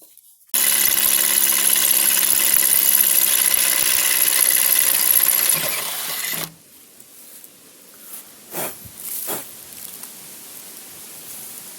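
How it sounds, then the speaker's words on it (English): A power drill whines loudly and steadily for about six seconds drilling holes in steel, then stops abruptly, followed by a few faint clicks and thumps. "And still need to drill 2 holes"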